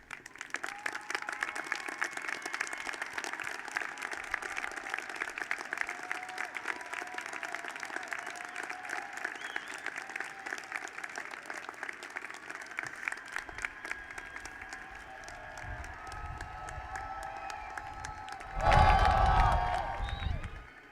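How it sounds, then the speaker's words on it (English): A commencement crowd at the CSUN Nazarian College of Business and Economics ceremony applauds steadily with scattered cheers. Toward the end a louder swell of cheering and clapping rises over the sustained clapping. "we are proud to salute you and ask that you now stand for a well-deserved round of applause"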